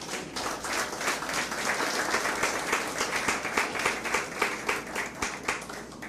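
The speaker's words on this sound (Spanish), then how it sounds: "De un aplauso al Señor." Sustained applause from a church congregation at a worship service, dense steady clapping that holds evenly for about six seconds with no voices on top.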